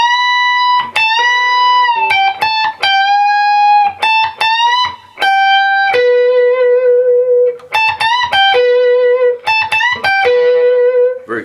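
Electric guitar solo lick with whole-step bends and a vibrato-held note, played alone through effects with reverb. Clean, singing sustained notes and quick picked phrases, steady and moderately loud, with no talking.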